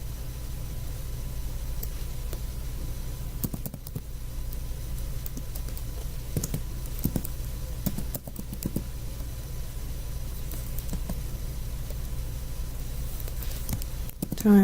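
Typing on a computer keyboard while entering a formula in Microsoft Access, a steady run of light, close key clicks with a few louder taps over a quiet, humming room, no voices.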